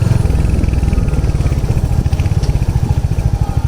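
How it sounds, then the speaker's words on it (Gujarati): A Royal Enfield Hunter 350 motorcycle engine thumps steadily and loudly up close, its even low pulses running without a break. "એન્જિન બેન્જિન ટપાટપ છે, ચલાવવાની બહુ મજા આવે"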